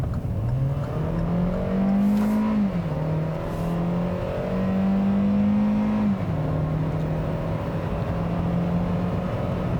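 A 2018 Kia Rio EX accelerating hard, its engine note climbing steadily and loudly, with two clear gear changes where the pitch drops before rising again.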